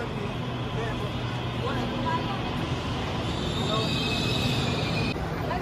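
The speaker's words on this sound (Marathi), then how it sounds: "तर मेट्रो आलेली आहे, हे बघा छोटी मेट्रो आहे" A small Navi Mumbai metro train rolls into a crowded station with a steady mechanical rumble and a thin, rising wheel squeal toward the end, while voices talk nearby.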